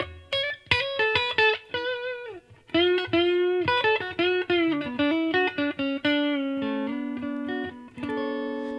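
Electric guitar played through a Boss RC-600 amp simulation, captured with a modelled Dynamic 421 microphone: a bright, close-sounding run of picked notes and sustained bends, steady and fairly loud, with no voices.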